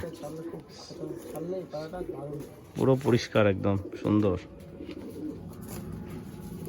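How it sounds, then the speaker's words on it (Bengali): Madras pigeons, including a black-tailed hen, coo in a pigeon loft, with a cluster of loud, close calls in the middle, while people talk nearby. "এই একটা কালদমা ম্যাড্রাস, মাদি পায়রা বহুত ছটপটে।"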